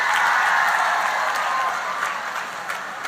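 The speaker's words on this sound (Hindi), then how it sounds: "जोर से ताली बजाओ हेमांग जी के लिए सभी लोग" A crowd at a political rally claps loudly for Hemang Thakuria, dense steady applause that fades slightly toward the end.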